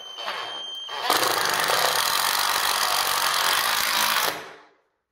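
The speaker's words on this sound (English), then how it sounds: "completely drilled through this piece of wood" An 18V cordless impact drill bores through a piece of wood: after a short lower whir it surges into a loud, steady high-pitched grinding drone for about three seconds, then winds down to silence.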